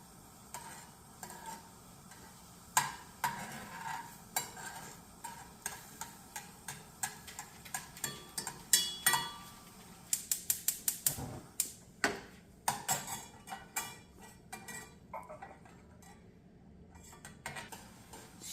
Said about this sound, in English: you just stir till the sugar and butter have just smoothened out nicely